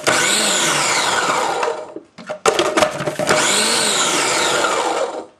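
A kitchen blender whirs loudly as it pulses pecans into pecan butter, two long steady grinding runs separated by a short break full of rattling and clattering.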